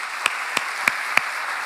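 A church congregation applauds, a steady wash of clapping with a few sharper individual claps standing out at a regular, almost rhythmic pace.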